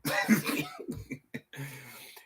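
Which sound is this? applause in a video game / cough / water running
cough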